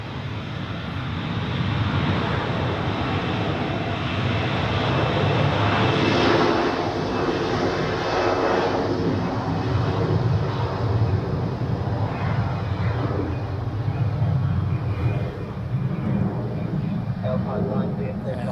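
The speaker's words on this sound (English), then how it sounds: "And here is the SkyUp 737 landing on 14." A SkyUp Boeing 737 lands on runway 14 at Zurich Airport, its engines a loud, sustained broadband roar held steady throughout, with a voice speaking over it.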